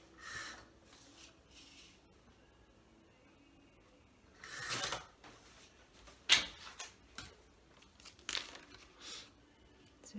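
Patterned paper is cut with a few rustling crinkles and sharp snips, spaced irregularly and fairly close, with quiet stretches between them.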